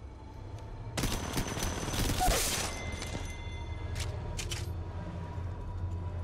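Gunfire in the mobile shooter Apex Legends Mobile: a sudden loud burst of rapid shots, then a few scattered single cracks over steady background game noise.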